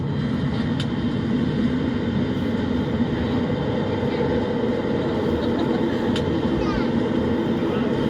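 Concorde jet engines on the takeoff roll, heard from inside the aircraft as a loud, steady low roar and rumble throughout, with crew voices talking over it.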